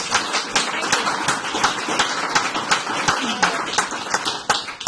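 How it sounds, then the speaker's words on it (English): A crowd applauds steadily for about five seconds, dense overlapping claps at a fairly loud, even level with no talking. "Let's give Valerie a big round of applause"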